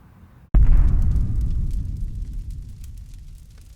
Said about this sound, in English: I think everybody needs a nuclear explosion in their demo reel